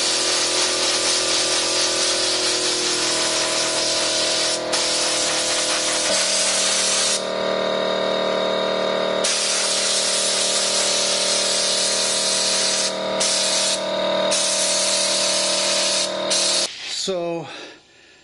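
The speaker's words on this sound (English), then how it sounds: "the sand coming out and blasting this thing" Sand sprays loudly from a sandblaster onto an old object, a harsh continuous hiss with a droning compressor tone, briefly cutting in and out before tapering off at the end.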